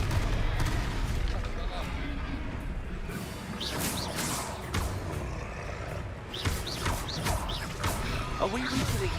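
Repeated spell blasts and crashing impacts from Confringo casts in a wizarding video game battle, sharp bursts scattered through a busy, loud mix of combat effects with talk over the top.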